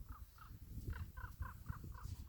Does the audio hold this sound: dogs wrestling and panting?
no